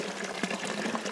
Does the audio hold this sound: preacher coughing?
no